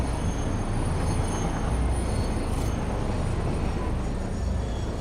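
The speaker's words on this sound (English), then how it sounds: "you can go ahead and stop the train so we can get out" A train in the video game Satisfactory slows to a stop, giving a steady, loud rumble of rolling wheels and rail noise throughout, with no voices over it.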